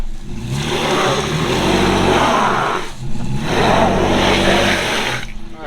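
A 2WD vehicle's engine revs loudly off road in two long sustained bursts with a brief dip between them, close and dominant throughout.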